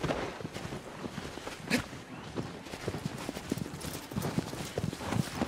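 Hoofbeats of a horse clip-clopping in the video game Shadow of the Colossus, a steady mid-level rhythm of thuds with a brief louder burst, set against game ambience.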